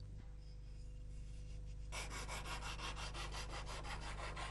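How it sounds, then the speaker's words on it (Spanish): Brisk, rhythmic rasping of handmade sandpaper rubbing against spruce edges of a violin in a luthier's workshop, close and steady, with repeated back-and-forth strokes after a quieter opening. "Con una lija que él mismo se ha preparado, el luthier repasa los bordes para que se ajusten bien"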